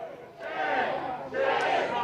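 Protesters crowd outside an immigration supervision building in Chicago, a loud massed roar of shouting voices that swells in two sustained waves, dipping briefly between them.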